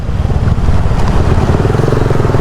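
A motorcycle engine rumbles steadily and loudly nearby, droning without a break for the whole stretch.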